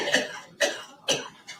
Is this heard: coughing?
yes